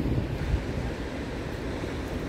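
Ocean waves at Camel Beach in California wash in as a continuous rushing surf, close and fairly loud, mixed with blustery wind buffeting the microphone.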